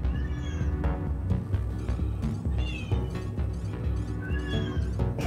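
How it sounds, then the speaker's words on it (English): Cats meowing and caterwauling in a VR space game, several overlapping yowls and meows repeating loudly and continuously with no talk. "Those cats really are not happy with you."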